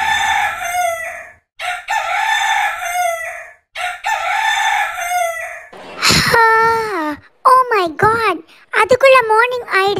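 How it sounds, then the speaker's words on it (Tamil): A rooster crows repeatedly in a domestic rural setting, with several long, loud calls in a row. These are followed by shorter bird-like calls in quick bursts, close by and clear. "இந்த பேர்ட்ஸ் எல்லாம் நம்மளை ரொம்ப டிஸ்டர்ப் பண்ணுது."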